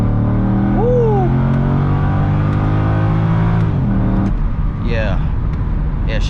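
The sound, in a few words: C6 Corvette accelerating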